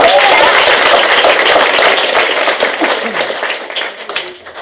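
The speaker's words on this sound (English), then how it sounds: "Everybody give Cat a big round of applause" A comedy club audience claps loudly and close, a dense burst of applause with scattered cheers that fades slightly toward the end.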